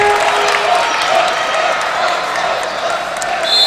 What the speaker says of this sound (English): And I'm hearing this crowd behind us, Neil